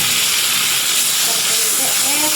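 Water splashed into a hot pan of chicken and potato curry masala, giving a steady, loud steaming hiss that fills the whole moment, with faint tonal traces of voice underneath.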